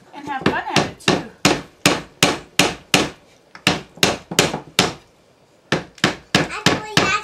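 A hammer bangs on a broken wooden chair during a repair, about twenty sharp, close knocks in quick uneven runs with brief pauses between bursts, loud and with no talking.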